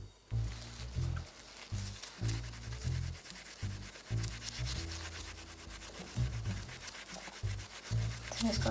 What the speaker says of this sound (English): sand down the full surface until you have a nice even dullness